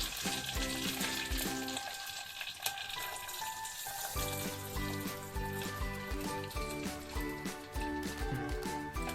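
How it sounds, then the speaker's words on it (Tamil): Curry leaves, cinnamon and dried chillies fry in oil in a clay pot for a tamarind curry, giving a steady sizzle that sits under prominent background music. "கருவேப்பிலை மூணு பட்டை மிளகாய் போட்டுக்கிறோம்"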